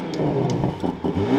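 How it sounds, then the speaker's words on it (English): A 2025 BMW M440i coupe engine revs up in short surges, the pitch rising and falling with each blip of the throttle, loud and close. "let's turn this on, start it up, and let's get some revs for this M440i."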